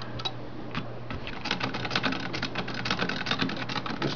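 An antique 1910 Singer Model 66 hand-crank sewing machine runs smoothly, its needle mechanism clicking in a quick, steady rhythm close up.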